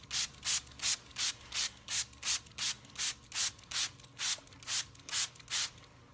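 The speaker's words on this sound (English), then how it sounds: "I have a spray bottle here with a really, really fine mist to it." A fine-mist spray bottle spritzes water onto upholstery fabric in about fourteen quick, evenly spaced bursts, each a soft hiss, close and quiet.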